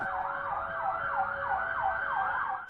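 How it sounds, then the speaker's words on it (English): A police van siren wails, sweeping up and down in quick repeated cycles, steady and moderately distant, over faint London traffic rumble. "These Met vans used their sirens."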